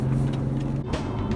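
A tuned 2012 Mercedes E550 accelerates at full throttle, giving a loud, deep engine drone heard from inside the car in a brief burst.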